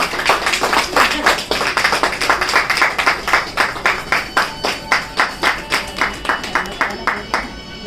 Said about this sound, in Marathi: त्याच्याकरता एक खूप छान टाळ्या तिच्याकडे।